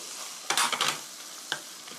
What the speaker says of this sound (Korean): 지금 반 이렇게 넣어서 고루 섞어 주시고요